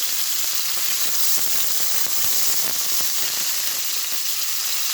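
A steak sears in a hot pan, cooking toward well done, with a dense, continuous close-up sizzle and hiss peppered with fine crackles, steady and loud from start to finish.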